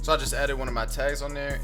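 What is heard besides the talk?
No everyday noise stands out behind the speech.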